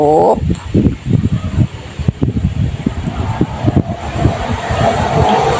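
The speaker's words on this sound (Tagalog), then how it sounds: "may dumadaanan naman na sasakyan na maingay" A noisy vehicle passes close by outdoors, a loud broad engine roar holding steady across the whole stretch, with a person talking over it throughout.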